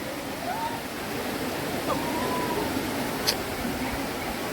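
Steady broadband rush of a waterfall near an ancient Shiva stone-carving site, filling the whole clip with even, continuous roar, with faint tonal sounds briefly riding on top.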